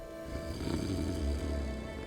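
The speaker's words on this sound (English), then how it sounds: "Drunken snoring." Drunken snoring in the video game Tainted Grail: The Fall of Avalon: a low, rumbling, throaty snore that swells and fades over a steady hum, moderately close and fairly quiet.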